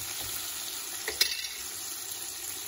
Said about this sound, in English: So we have to fry all these things for 5 minutes until the raw smell gone.